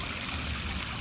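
Water trickles and splashes steadily down the rocks of a homemade fish pond waterfall, a constant close wash of sound.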